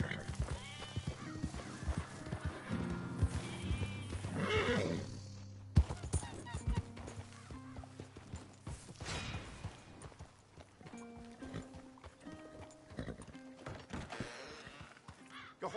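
Horse hooves clip-clop in Red Dead Redemption 2 amid busy game sound, with whinnies, thunks and music-like tones, and voices talking over parts of it.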